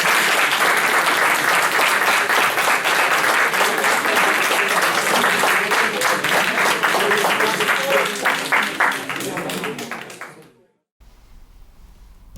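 An audience at a talk claps warmly for about ten seconds in a dense, steady burst, then the applause fades out and stops, leaving quiet room tone.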